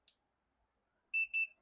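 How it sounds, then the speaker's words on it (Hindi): An EZO retail billing machine gives two quick electronic beeps as it powers on, clear and close in an otherwise quiet room. "ये देखिए, ग्रीन लाइट जली और बीप की आवाज़ आई है।"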